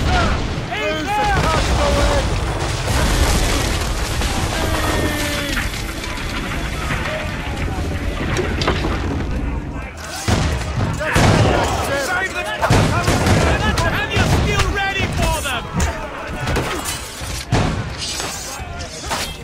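Ship cannons boom repeatedly in a naval ambush in Assassin's Creed Rogue, heavy blasts and crashes layered over a dense battle din with shouted voices and music throughout.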